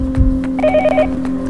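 A telephone rings in the video game Yomawari Night Alone: a steady, tonal electronic ring with bright overlapping pitches, loud and close, filling the whole short moment without talk.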